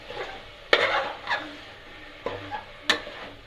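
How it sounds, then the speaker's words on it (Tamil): A utensil stirs ginger garlic paste sautéing in a pan for vegetable biryani, giving four sharp scraping clatters with faint sizzling between them, close and fairly quiet. "இஞ்சி பூண்டு பேஸ்ட் பச்சை ஸ்மெல் போகிற வரைக்கும் வதக்கிக்கலாம்"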